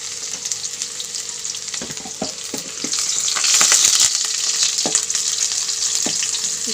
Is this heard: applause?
no